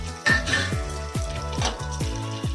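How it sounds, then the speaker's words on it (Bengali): Bay leaves and whole garam masala dropped into hot oil for a handi mutton dish sizzle steadily and close by, with a pulsing crackle that swells in regular waves and no talking. "গরম তেলের মধ্যে প্রথমে কয়েকটা তেজপাতা আর একটু গোটা গরম মশলা"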